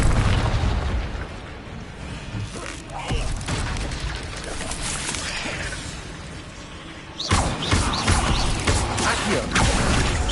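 Fiery Incendio spell blasts from a wand in Hogwarts Legacy, a dense roaring burst with booming crackle that sustains, then a second loud surge of fire and impacts erupts partway through, with game sounds layered beneath.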